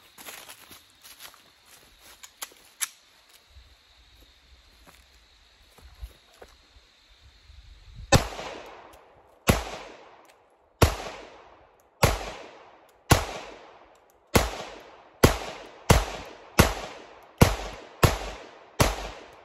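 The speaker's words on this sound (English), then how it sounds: "let's put some rounds down range" A custom Sig P365X pistol fires a string of about ten sharp, loud shots at a steady rhythm, each with a short echoing tail, after some quiet handling noises at the start.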